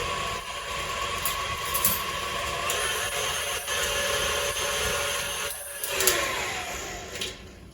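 An electric mixer whirs steadily as it beats chocolate chip cookie batter in a bowl. The motor drones continuously with faint clatter against the bowl, and there is no talk.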